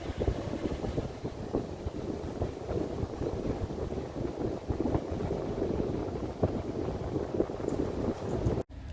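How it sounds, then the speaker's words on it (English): A boat on the Ohio River, heard from the shore as a steady, distant low rumble mixed with wind buffeting the microphone, continuous throughout with no voices. "Sounds like there's a boat out there."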